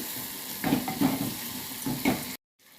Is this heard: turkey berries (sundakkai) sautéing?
yes